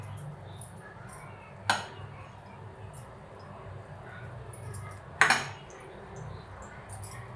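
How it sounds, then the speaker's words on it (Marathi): A heated kadhai (wok) gives two sharp metallic clinks a few seconds apart, set against a low steady background hum with no talking. "कढई तापली म्हणून असं वाजलं."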